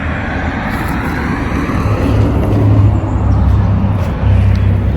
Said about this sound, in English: I know a car's just gone by